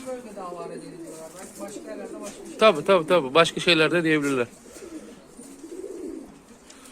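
Mardin tumbler pigeons coo at a coop while someone talks close by, the birds' low calls running under and between his speech.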